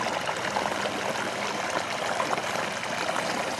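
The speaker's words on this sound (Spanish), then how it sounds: "El río no tenía tanta agua como en este momento" A river in Boyacá rushes and flows in a steady, dense wash of water noise that holds an even loudness throughout, with no voices.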